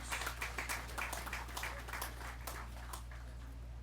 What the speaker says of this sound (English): I wish to give them a sound round of applause